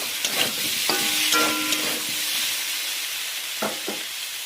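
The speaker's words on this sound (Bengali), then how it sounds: "এবারে দেবো কেটে রাখা টমেটো কুচি, দিয়ে আবারও নাড়াচাড়া করব।" Chopped tomato and green chilies sizzle and fry in a pan for a Bengali fish curry, with steady hiss and a few scraping stirs, close and alone.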